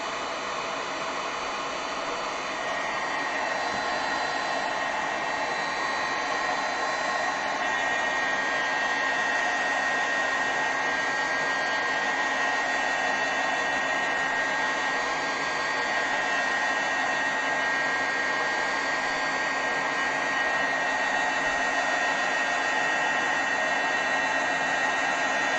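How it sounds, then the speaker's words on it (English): A craft heat tool blowing steadily to heat set ink on paper, giving a continuous loud whooshing fan roar with a faint high whine, unbroken for the whole stretch and with no talk. "So I'm just gonna try and quickly heat set this a little bit."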